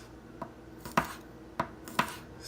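A knife chopping peeled garlic cloves on a cutting board: four crisp, close knocks at an uneven, unhurried pace, with quiet pauses between strokes.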